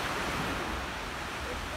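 Sea waves wash at the shore at Porto Belo before a dive, a steady, full rushing roar with wind buffeting the microphone, constant and fairly loud throughout.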